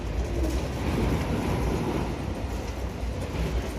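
Steady low rumble of a moving train, with a constant rolling drone and faint rattling, heard from inside at moderate volume.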